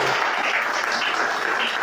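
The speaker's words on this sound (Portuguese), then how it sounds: "Amém. Pode aplaudir." Dense, steady applause from a church congregation during a Portuguese-language sermon fills a short stretch without pause.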